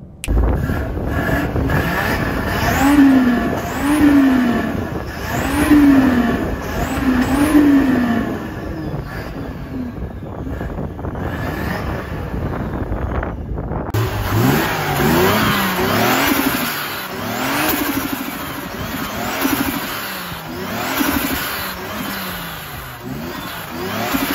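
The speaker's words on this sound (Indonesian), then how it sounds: "bunyi turbonya tuh tadi kalau kalian dengar ada videonya klipnya kayak gini flutternya sama nalpotnya" A Toyota Aristo with a single-turbo 2JZ engine revving repeatedly with rising and falling pitch, turbo flutter and exhaust rumble, loud and close throughout.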